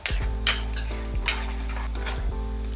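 Chana dal and urad dal fry in oil over low flame with a steady sizzle, while a spoon scrapes and taps the pan a few times.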